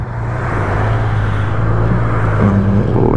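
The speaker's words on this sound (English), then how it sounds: "Let the car pass" A car rolls past close by, its engine and tyre noise filling the moment in a steady, loud whoosh that swells slightly as it goes by, with no talking.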